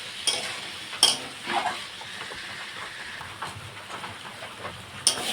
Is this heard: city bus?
no